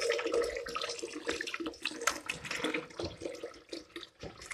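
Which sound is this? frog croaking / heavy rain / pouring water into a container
pouring water into a container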